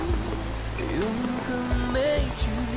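Rain falls steadily in a Chinese romance drama scene, a constant soft hiss of drops running beneath quiet tonal music throughout.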